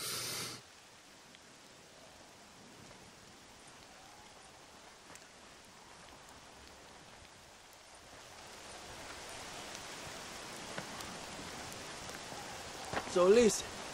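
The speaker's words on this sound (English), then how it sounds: "It just has to be dark as shit and raining." Steady rain falls at night in the Red Dead Redemption video game, a soft, even hiss that swells slightly toward the end, with a brief vocal sound at the close.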